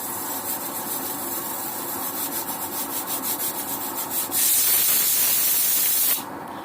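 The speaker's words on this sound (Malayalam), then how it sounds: "കുക്കർ ആവിയായി തുടങ്ങി" A steady hiss of escaping steam from a pressure cooker on a waste-oil rocket stove rises midway and becomes louder and brighter, then cuts off abruptly near the end.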